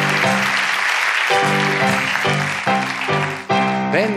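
Studio audience applause on the Turkish TV show TOLGSHOW rolls along beneath loud, sustained tonal music, the clapping a steady broadband patter that swells and dips with the music.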